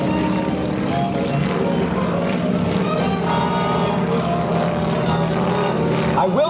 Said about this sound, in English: that in the number 3 airplane, that's Kerry Hardin